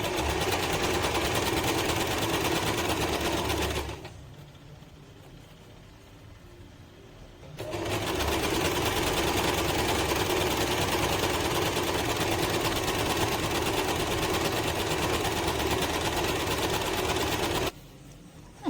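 An Usha Janome DLX sewing machine stitches fabric through a hemming foot with a steady, rapid mechanical whir, pausing once for a few seconds before resuming, moderately quiet and close with no talking.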